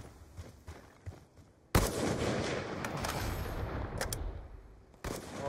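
Video game gunfire: a loud, sharp shot crashes in after a quiet stretch, with a dense noisy tail and another burst near the end.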